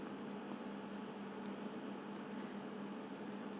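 Rava potato fingers fry in a pan of hot oil with a steady, faint, even sizzle and hiss and a few tiny pops, and no voices.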